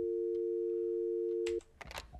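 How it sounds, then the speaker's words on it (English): A telephone dial tone hums steadily and loudly for about a second and a half, then cuts off, giving way to a few clicks and brief handling noises. "Dial tone."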